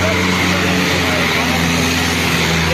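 A tractor's diesel engine drones steadily at a village trolley-pulling competition, a constant loud mechanical hum with voices talking over it.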